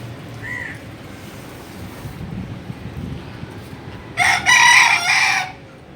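Chickens and a rooster on a rooftop poultry setup, a faint cluck early on, then one loud nearby crow rising over a low steady background hum.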